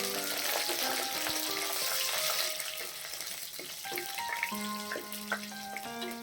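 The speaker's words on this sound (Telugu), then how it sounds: "2 రెమ్మల కరివేపాకు వేసుకొని పోపుల్ని వేయించుకోవాలి" Cumin, mustard seeds, chana dal, urad dal, two dried red chillies and curry leaves crackle and sizzle in hot oil for a tempering, a dense, continuous frying hiss heard up close with small pops and no talking.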